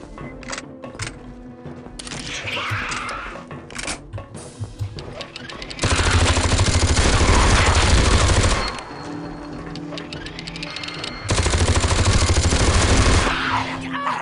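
Sustained bursts of automatic gunfire in the game Aliens vs Predator 2: Primal Hunt, two long loud rattling volleys separated by quieter stretches of game noise and clicks.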